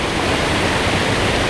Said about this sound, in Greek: έτσι όπως κατεβαίνει το νερό κάνει ένα στροβιλισμό πάνω σε αυτή τη στροφή